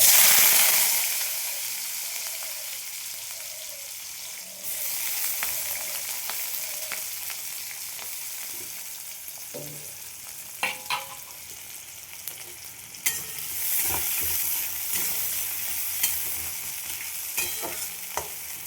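Onions hiss and sizzle in hot oil in a pan for chow mein, a constant bright frying noise punctuated by occasional stirring scrapes and clicks, close up with no talking.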